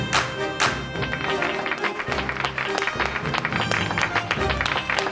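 Conan O'Brien clapping with downward chopping strokes, rapid loud claps amid audience applause and music.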